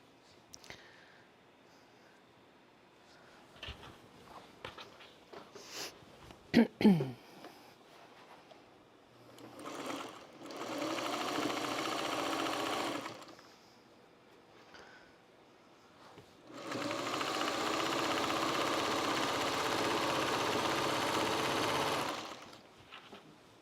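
A sewing machine stitches a bat appliqué onto a quilt block in two sustained runs, each a few seconds long, separated by quiet handling and small clicks.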